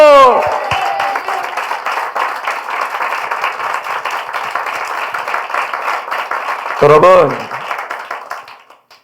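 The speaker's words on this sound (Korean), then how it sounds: "할렐루야 박수!" Church congregation clapping during a Sunday morning worship service at Saenorae Church, a steady dense wash of hands lasting several seconds, loud and close, with a preacher's voice cutting in near the end.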